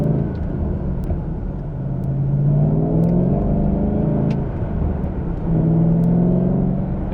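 2012 Shelby GT500 accelerating as its tires slip, a close rumbling V8 whose pitch climbs in two rising pulls with faint broadband road noise and no voices.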